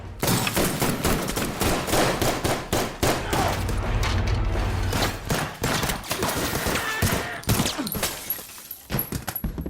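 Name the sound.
gunfire in a violent shootout, film scene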